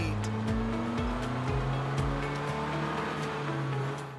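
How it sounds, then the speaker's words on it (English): An animated car drives along, its engine hum steady and close while low thumps repeat at an even half-second beat, then the drone fades slightly toward the end. "He loves driving, and he loves his new car."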